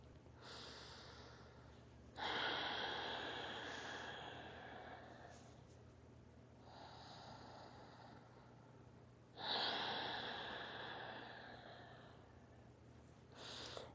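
Slow, deep breathing during a mat exercise: long, airy inhales and exhales swelling and fading in a steady rhythm, close and soft, with no talking.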